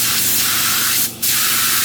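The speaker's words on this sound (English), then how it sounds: "I just got some lacquer thinner, just something to spray." Lacquer thinner hisses steadily from a spray can in a loud, continuous close-up burst, with one short pause near the middle before the spray resumes.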